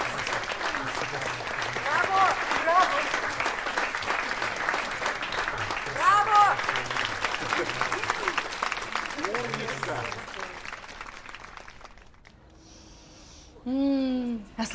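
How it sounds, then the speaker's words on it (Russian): A theatre audience applauds after a Hamlet performance with dense, sustained clapping that fades out, followed by a brief voice near the end. "А слышали, как они хлопали?"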